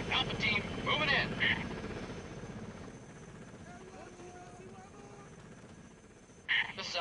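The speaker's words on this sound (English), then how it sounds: "We got a chopper moving through the canyon up ahead." Helicopter in the Delta Force 2 PC game, its rotor chop throbbing steadily at moderate distance beneath radio-style voices that speak at the start and end.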